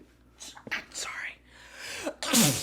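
A single sharp sneeze bursts out near the end, loud and close, after soft whispered and breathy talk.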